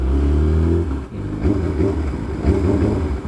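A Yamaha R6 sport motorcycle engine idles with a deep, steady throb, then revs up and down in loud, close bursts.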